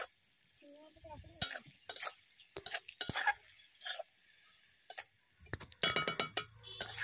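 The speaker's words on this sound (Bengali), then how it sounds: "দিয়ে একটু নেড়ে নেব।" A spoon stirs cabbage curry with fried prawns in a pan, giving a string of short scraping and clinking strokes with soft sizzling in between, close by and moderately loud.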